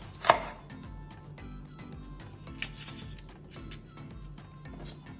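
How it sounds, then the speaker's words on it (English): A knife chops a medium onion on a cutting board: one sharp thud near the start, then a few softer, irregular cuts over quiet kitchen background, with no talking. "I have an onion, a medium onion. So I'm just gonna cut that into 4 pieces like that."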